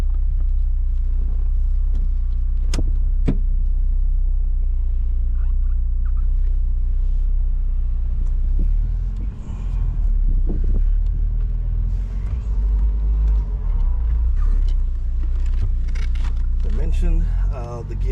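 Porsche 944 on the road, its engine rumbling low and steady from inside the cabin for the whole stretch, with a few brief dips as gears shift and light rattles.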